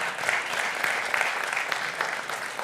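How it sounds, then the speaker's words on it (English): Audience applause at a high school football signing ceremony for seniors, a steady, dense patter of many hands clapping at moderate volume for nearly three seconds with no talk over it. "that's worth a round of applause"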